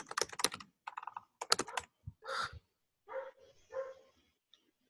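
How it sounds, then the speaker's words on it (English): Typing a name on a computer keyboard during an online meeting, short clusters of close keystrokes followed by a few dog barks and whimpers in the background, no speech. "let me type my name"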